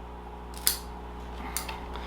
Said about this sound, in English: We're going to at least cut it back to here.